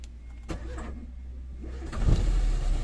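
A 2003 Daewoo Lanos cranks and its engine catches with a low, close rumble that swells near the end and carries on steadily, with a few faint clicks beforehand and no talk.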